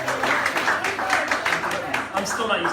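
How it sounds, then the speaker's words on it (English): Audience applause at a political candidate forum, a dense steady patter of many hands clapping throughout, moderately loud and continuous. "I'm still not used to people clapping when I say the word"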